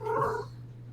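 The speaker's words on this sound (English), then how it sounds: "I heard a kitty." A kitty lets out a brief, close, fairly loud meow-like call that fades within half a second, with a steady low hum underneath and no talking.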